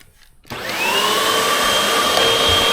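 A household vacuum cleaner switches on after a short silence and runs steadily and loudly with a constant high whine, close by and alone, during home floor cleaning.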